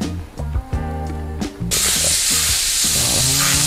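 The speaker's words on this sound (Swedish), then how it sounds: "Börja med att steka på brödet lite grann så att det får en schysst yta." Burger bread frying in a pan, a loud steady sizzle and hiss that bursts in suddenly partway through and then continues close up without talk.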